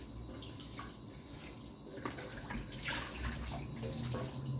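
Chicken feet being washed under a running kitchen tap after a salt and lemon soak, with a steady splashing water stream and intermittent louder gushes as the feet are handled.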